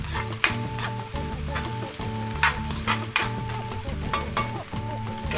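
Onion frying in a pan for escabeche, a loud close sizzle with bursts of crackle and utensil stirring scrapes at irregular intervals, no talking.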